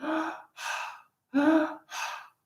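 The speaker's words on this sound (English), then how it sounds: "This is breathing." A person demonstrates breathing with four loud, close, deliberate breaths, alternating audible inhales and exhales in an even rhythm, with short pauses between them.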